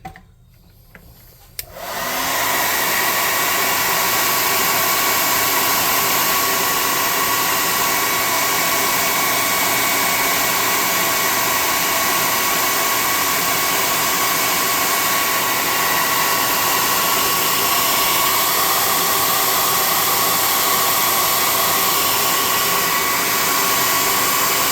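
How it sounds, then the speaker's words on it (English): An air gun blows steadily onto a freshly painted tabletop model gadget booth, a loud, continuous hissing rush of air that starts after a short quiet moment and runs unbroken to the end. "Let's hit this with an air gun and see what it does for us."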